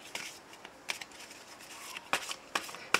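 Quiet riffling and snapping of a tarot card deck being shuffled and cut, a few short crisp bursts spaced apart with near silence between them, no voices.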